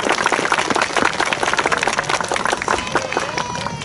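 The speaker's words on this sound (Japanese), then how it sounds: "拍手じゃ。" Crowd applause for ninja performers at an outdoor samurai-warrior show in Nagoya, a dense, loud burst of many hands clapping with crowd noise mixed in.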